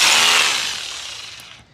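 A repaired DBK impact drill with a stripped-gear fault, now fixed, runs loud and close in a dense whine that slowly fades as it winds down, with no talking.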